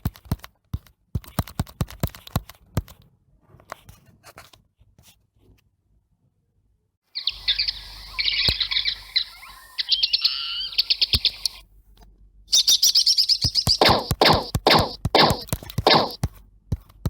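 Rapid electronic bird chirps in a mobile bird-shooter plane game, bursting loudly in two long stretches over busy clicking game effects, with quieter ticks and pauses between.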